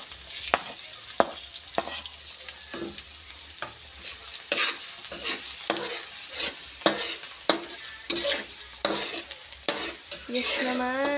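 Garlic sizzles and fries in a pan while a utensil stirs it in repeated scraping strokes, a steady close crackle with sharp clinks against the pan.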